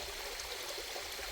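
Steady rushing water from a stream at a mountain waterfall, a continuous even hiss with no pauses, close and moderately loud.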